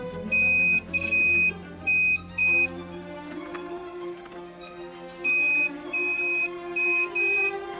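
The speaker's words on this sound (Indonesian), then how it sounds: "Periksa koneksi saklar mode loudness dengan mode buzzer pada multimeter" Multimeter continuity buzzer on a Polytron DAT 57A switch test, giving a series of clear high beeps of varying length separated by short gaps, loud and close, with no talk.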